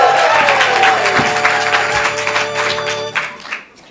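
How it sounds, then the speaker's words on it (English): An audience at a ComedySportz improv comedy show bursts into loud, sustained cheering and applause on cue, dense and close, tapering off near the end. "when I say on the field, you cheer wildly"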